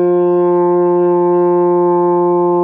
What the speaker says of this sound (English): We're going to just play F with our lips a little bit closer together.